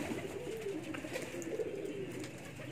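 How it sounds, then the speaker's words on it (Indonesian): Pet blusur pigeons coo softly and steadily on a rooftop loft, low rounded calls repeating over faint outdoor background. "Sekarang kita santai dengan merpati kesayangan kita, merpati blusur."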